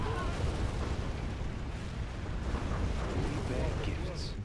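Booming cannon fire from the video game Command & Conquer: Generals Zero Hour, rumbling continuously with dense overlapping blasts and a low, heavy roar throughout.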